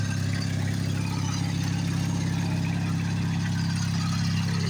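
A Briggs and Stratton opposed-twin engine on a tractor, revived after being seized, runs at a steady idle with a continuous low, throbbing hum throughout and no talking.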